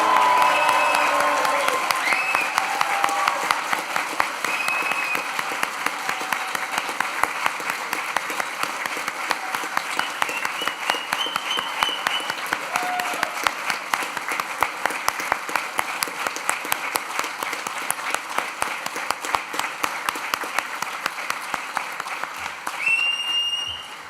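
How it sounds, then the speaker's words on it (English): A large audience at an engineering graduation ceremony claps and cheers in a sustained, dense burst of applause with scattered whoops, holding steady for over twenty seconds before fading slightly. "let's celebrate with a huge cheer and round of applause"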